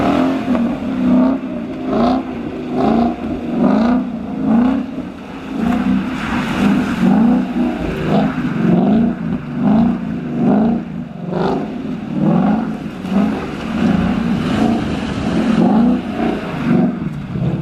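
A 2015 Mustang GT revs hard in first gear while spinning donuts, the engine rising and falling in repeated surges of roaring, rasping exhaust, close and loud and sustained with wind buffeting throughout.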